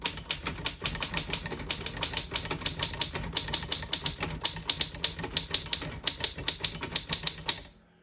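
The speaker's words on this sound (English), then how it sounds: "I'll type a sentence on the next line." Steady, brisk typing on a 1931 Royal vintage desktop typewriter, dozens of crisp mechanical key strikes in a fast, slightly uneven rhythm, close and clear with no voices, stopping abruptly at the end.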